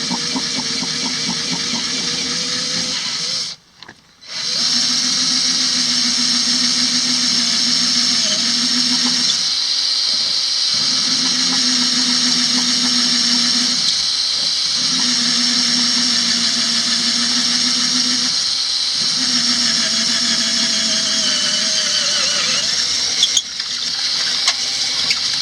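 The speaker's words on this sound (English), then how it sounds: "So I just have this 4th hole to drill, and these are going all the way through the transom." A power drill whines steadily while boring holes through a boat transom for an outboard kicker motor bracket, loud and close with a brief stop near the start and small pitch shifts as the bit works.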